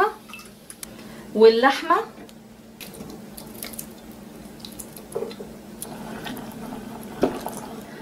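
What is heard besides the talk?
water being poured into a cooking pot for chilli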